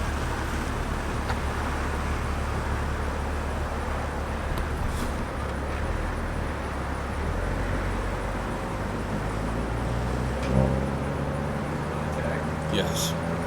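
An Audi RS5 Coupé or Fiat Abarth 500 fitted with a RaceChip tuning module runs on a street dyno with a steady, loud engine drone and road roar throughout, the pitch climbing late, with people talking over it.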